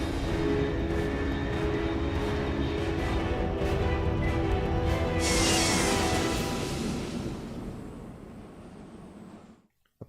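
A jet aircraft roars past in Metal Gear Solid 3, a loud sustained rush that swells to a bright whoosh midway, then fades quickly into silence.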